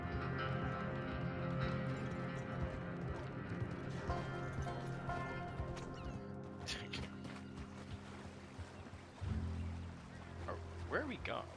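Horse hooves clip-clop steadily as a rider travels in the video game Red Dead Redemption 2, faint under game music and ambience, with a short whinny near the end and voices talking over it.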